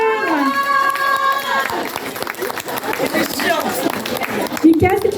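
A crowd at a cosplay parade cheers and claps for a Mad Hatter costume, with a sustained, loud wash of applause and shouts right after a sung or drawn-out voice opens the moment.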